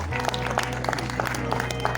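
Audience applause at an anniversary awards ceremony in Uttarakhand, a steady clatter of clapping from a crowd lasting two seconds over a constant low hum, with no voices rising above it.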